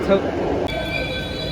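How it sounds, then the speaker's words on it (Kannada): A metro train at night rumbles at a station platform, then a steady electric whine with high tonal lines rises as it moves off, after a brief voice at the start. "ಕಣ್ಣು ಮುಂದೆ ಮಿಸ್ ಆಯಿತು ಟ್ರೈನ್. ಮೆಟ್ರೋ"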